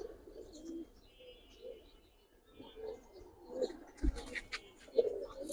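Hurricane-pattern pigeons cooing softly nearby, with a few light chirps and occasional thumps in a quiet setting.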